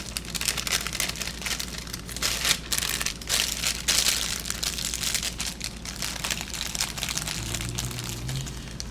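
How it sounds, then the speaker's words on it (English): Plastic and anti-static bags crinkle and rustle continuously as they are handled up close, with irregular crackling bursts and no talking. "they've got the plastic bag and an anti-static bag, and then a super big bag"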